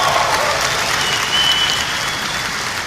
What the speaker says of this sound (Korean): 박수가 터져 나오죠.